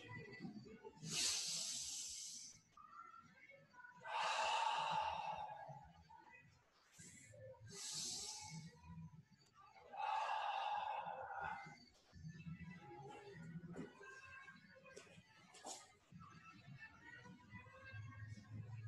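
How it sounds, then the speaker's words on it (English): Kung fu breathing practice after the Iron Wire form, with repeated loud, close breaths drawn in through the nose and pushed out through the mouth in slow, evenly spaced hissing bursts, with no talking. "this is some breathing in the nose, out the mouth, tightening and loosening the body"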